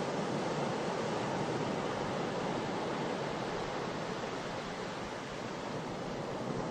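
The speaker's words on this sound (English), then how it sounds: "The continuous sound of the pounding surf in the background attracted the team towards the nearby beach" Heavy Atlantic surf pounds a remote, unspoiled beach in Gabon, a dense, continuous roar of breaking waves with no pauses.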